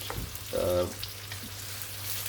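Onions fry in a pot for chicken masala, a soft steady sizzle with a brief louder scrape or stir partway through, fairly quiet and close.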